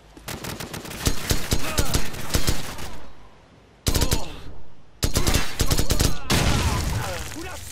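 Bursts of automatic gunfire in Call of Duty Modern Warfare, loud rapid volleys broken by short pauses, with a dull thump and brief voices mixed in among the shooting.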